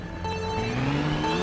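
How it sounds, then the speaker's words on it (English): A kart engine in the racing game Mario Kart 8 Deluxe revs hard, a loud steady whine with rising pitch lines that climb over the brief moment. "Look at my engine going crazy."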